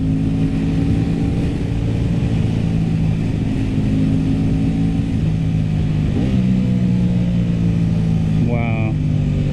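An Aprilia RS 660 motorcycle engine drones steadily at close range, with pitch dips as it downshifts and a quick rising rev burst near the end.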